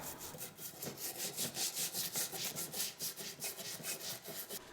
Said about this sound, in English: Now use a scraper tool and remove all of the old gasket.